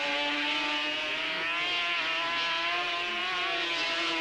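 Sidecar racing motorcycles at the 1991 FIM Sidecar World Championship at Le Mans, engines screaming at high pitch in a steady, sustained wail as the machines race, loud and continuous with no talk over it.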